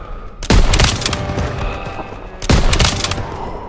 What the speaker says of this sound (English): They're taking fire from behind!